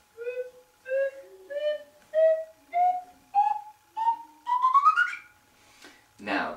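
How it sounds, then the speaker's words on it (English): A slide whistle plays a series of about eight short separate notes, each pitched a little higher than the last, then a quick upward slide, heard clearly and close in a quiet room. "Now comes the fun part, is you need to follow my slide whistle."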